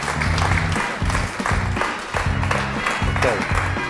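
An audience applauds at a stage event while someone talks over the clapping, his voice prominent and the applause a steady bed beneath.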